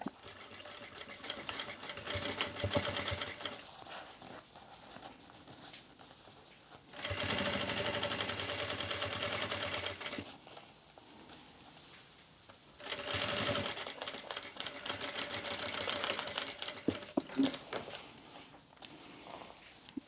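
Sewing machine stitching the side of a makeup bag: three bursts of rapid, even mechanical whirring, each several seconds long, separated by quieter pauses with faint handling noise, close up.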